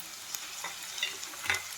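A garlic and green chilli paste sizzles among frying onions, a soft, fairly quiet crackle with a few light stirring scrapes and clinks scattered across it.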